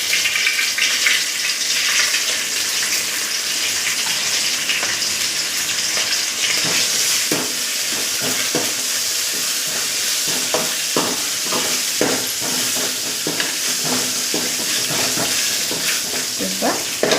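Fennel and poppy seeds sizzle in hot oil for a mutton curry, a continuous close frying hiss with scattered stirring scrapes and pops.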